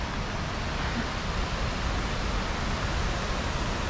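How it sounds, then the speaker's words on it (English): The San Joaquin River rushes through its gorge near a small bridge, a loud, dense, continuous roar of fast-moving water with no other sounds. "Look at that water go like crazy."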